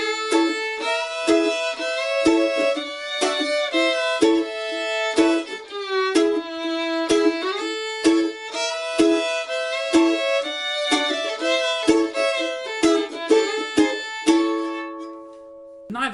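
A bluegrass mandolin plays steady chop chords behind a sustained fiddle melody. The chops land as sharp rhythmic accents on an even pulse under the bowed line, which runs continuously for about sixteen seconds before fading.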